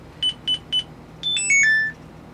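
A Cycliq Fly12 bike camera beeps three times in quick succession as its recording-finished alarm, then plays a short descending series of tones, close and clear.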